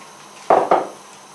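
A pan of browned mince and beef stock gets a stir: two quick, close, fairly loud scraping knocks of a utensil against the pan, then quiet.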